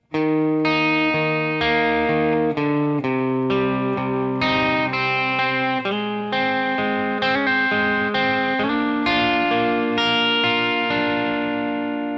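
Clean plucked guitar notes picked one string at a time in a steady arpeggio pattern, ringing over each other, played alone and close.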